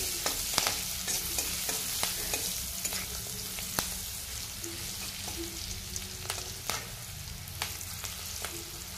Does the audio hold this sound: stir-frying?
yes